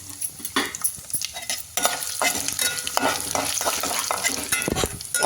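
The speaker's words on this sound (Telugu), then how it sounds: "నూనె కాగిన తర్వాత ఎండుమిరపకాయలు వేగుతూ ఉంటే చక్కగా అటు ఇటుగా కాస్త వేగిన తర్వాత" Dried red chillies, urad dal and cumin sizzle in hot oil for semiya upma, crackling loudly and steadily up close, while a utensil stirs and scrapes the pan throughout.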